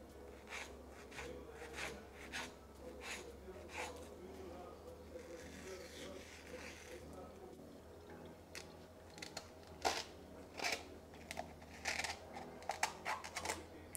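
A knife chops soft mango on a board for a simple one-bowl cake, producing a run of soft, quick taps close by that grow sharper and more spaced out toward the end, over a low background hum.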